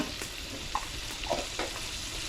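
Chicken fries in oil with turmeric as it is stirred, a soft, steady sizzle broken by a few faint scrapes and clinks, quiet and close with no talking.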